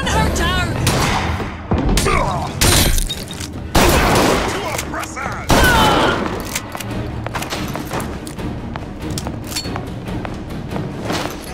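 Dense BioShock Infinite gunfire and impacts crackle and boom in overlapping volleys, loud and sustained, with voices mixed into the chaos.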